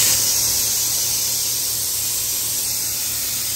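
Air suspension on a bagged Ford F350 on large off-road tires lets out a steady, loud hiss of venting air as it lowers, continuous throughout with no talk.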